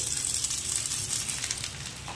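A cheese omelette sizzles and fries steadily in a hot pan, a continuous close crackling hiss with no voices.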